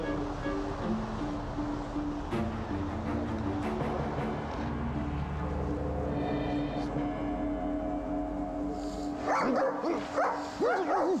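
A police search dog barks and yelps loudly near the end, sharp repeated calls over a dense, steady background of low hum and tonal sound that runs through the whole stretch.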